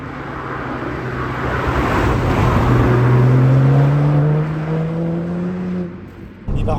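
A BMW 1M's engine and exhaust sound while driving, a steady, muffled drone that rises in pitch as it accelerates, then eases off near the end.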